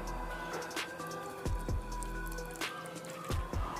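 Water poured from a bottle onto the absorbent chemical from a baby diaper, heard as close, irregular splashing drips and squishy trickles with a low hum underneath.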